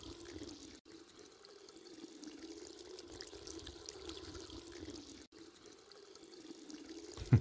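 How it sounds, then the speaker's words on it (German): A water tap left running in the video game The Kite gives a steady, quiet stream of flowing water that continues evenly throughout, with no talking. "Lass mal den Wasserhahn laufen."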